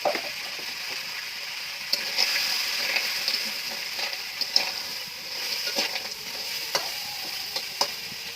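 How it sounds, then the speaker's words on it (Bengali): Crab pieces frying lightly in oil with salt and turmeric give a steady close sizzle, broken by occasional sharp clicks and scrapes of stirring, with no talk. "লবণ হলুদ দিয়ে কাঁকড়াটাকে প্রথমে আমি হালকা করে ভেজে নেবো"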